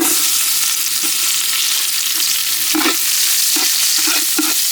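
Garlic stir-fried in a pan during village-style Maggi Manchurian cooking, a steady loud sizzle of hot oil broken by several scraping stirs of a spatula, with no talking.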